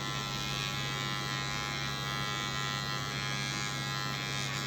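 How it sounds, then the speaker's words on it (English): Electric hair clippers cutting hair during a barber lesson give off a constant close, loud buzzing hum that stays steady throughout, with no speech. "Thumb in the front of the clipper."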